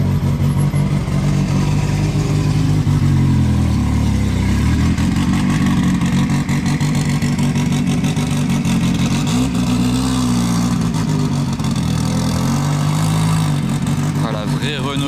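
A 2.5 turbo rally car drives past on a snowy mountain road near Monaco, its engine loud and close, revving and rising and falling in pitch over about fifteen seconds with a steady throaty drone.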